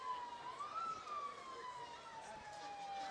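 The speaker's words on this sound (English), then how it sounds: "We're starting to hear some of the sirens just down the street." Emergency vehicle siren wailing in a steady rising and falling tone from down the street along a Christmas parade route, moderately loud and continuous over crowd ambience.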